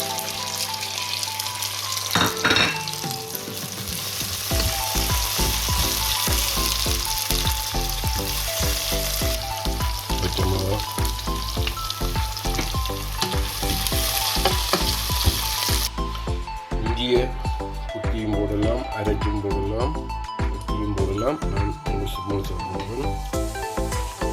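Spices sizzle and crackle in hot oil with steady frying noise, punctuated by stirring clinks and a few brief splashes of water, while tempering spices for a prawn curry.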